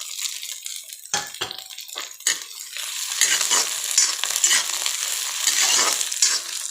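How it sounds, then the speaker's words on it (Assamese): Onions fry with ginger-garlic paste in a curry pan, a steady close sizzle broken by a few sharp spoon clinks at first, then continuous scraping stirring. "অলপ পিঁয়াজ ৰঙচুৱা কৰি ল'লোঁ, তেতিয়া তৰকাৰীখনৰ চেণ্টটো ভাল হয়।"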